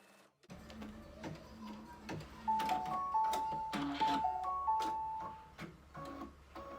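An embroidery machine stitches the placement outline for batting on an in-the-hoop project, a steady close whirring hum with rapid ticking needle strokes and shifting motor tones that run continuously after a brief start.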